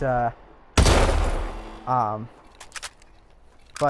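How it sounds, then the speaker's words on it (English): Heavy Atlas 20mm sniper cannon firing in Call of Duty Advanced Warfare: one loud booming blast with a long rumbling tail, framed by spoken commentary and followed by light mechanical clicks. "which is the Atlas 20mm, which is a millimeter cannon"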